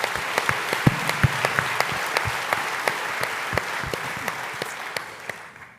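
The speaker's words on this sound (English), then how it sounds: "So please help me give a round of applause for Artec Integrated Solutions." A conference audience applauds in a dense wash of clapping, with sharp individual claps standing out near the front, then tapering off slightly toward the end.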